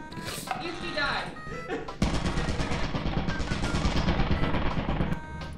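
Turret firing in the video game Lethal Company, a rapid machine-gun burst of dense repeated shots that starts abruptly and runs for several seconds, with people talking over the start.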